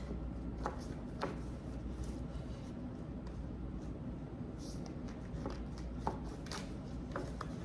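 A deck of tarot cards is shuffled by hand close by, producing soft, irregular riffling and sharp little clicks and taps spread over several seconds against a quiet room.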